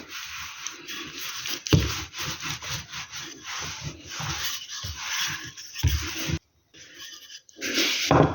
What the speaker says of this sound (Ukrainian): Далі беремо наше тісто і розкочуємо в великий тонкий пласт.